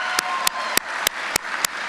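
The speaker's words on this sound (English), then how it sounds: "can I get one more round of applause for the new probationary firefighters from Class 13" Sparse, evenly spaced claps ring out about every third of a second, loud and close, over a faint murmur of crowd applause at a fire academy graduation honoring new probationary firefighters.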